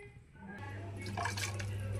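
Water pours into a pan with ginger-garlic paste and oil on high flame, with a rising gurgling splash after a brief quiet moment.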